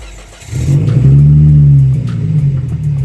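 A Volvo car engine, just treated with Seafoam, rumbles loudly up close and rises into a sustained rev before settling back to a steady, throaty idle.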